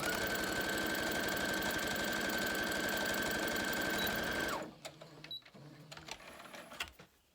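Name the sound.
sewing fabric pieces together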